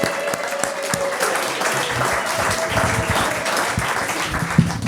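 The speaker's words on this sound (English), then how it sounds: "Let's hear it for CJ. That was a good ending" Audience applause at a stand-up comedy open mic on a Christmas-themed night: a sustained patter of clapping from a small crowd, moderately near and continuous throughout.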